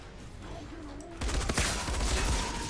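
Gunfire in the video game Outriders: after a quieter stretch, a dense burst of rapid shots breaks in loud and close, then continues as sustained firing over a steady background bed.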